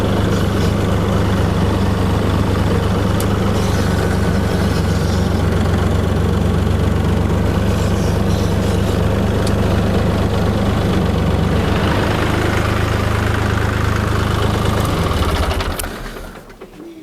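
A DTZ 5244NRKh diesel tractor engine idles steadily after air filter replacement, with a deep, rumbling low throb, loud and close, before cutting out abruptly near the end.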